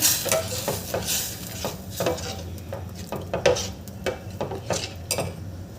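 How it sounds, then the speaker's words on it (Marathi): A spoon scrapes and clinks against a metal pot in repeated uneven strokes as a milk mixture is stirred, close and fairly loud. "दूध आणि कोळ्याचं मिश्रण ते घालायचं आहे आणि हे छान मिक्स करून घ्यायचं आहे"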